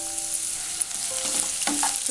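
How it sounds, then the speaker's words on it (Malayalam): Sliced onion frying in ghee for a vegetable paneer biryani garnish, a dense close sizzle with light stirring scrapes and faint clinks, no voices. "നമ്മൾ നേരത്തെ അരിഞ്ഞു വെച്ചിരിക്കുന്ന സവാളയിൽ നിന്ന് കുറച്ച് സവാള എടുത്തിട്ട് നെയ്യിലേക്കിടാം"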